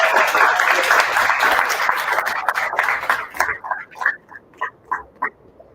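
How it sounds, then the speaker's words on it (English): An audience applauds as a woman is called to the podium at a showcase event. Dense clapping fills the first three seconds, then breaks into a few scattered, fading individual claps. "Give her a round of applause."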